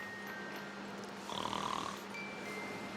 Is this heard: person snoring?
yes